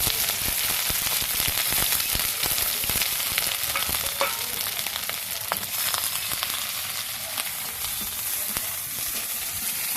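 Chopped onions frying in hot oil with whole cardamom, cloves, cinnamon and cumin, a loud continuous sizzle with crackling pops and occasional stirring, no talking.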